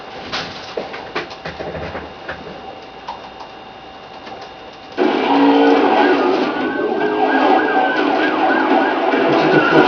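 Police siren during a car chase in the Need for Speed Undercover video game, a steady electronic wail under engine and game noise that grows suddenly louder and fuller halfway through.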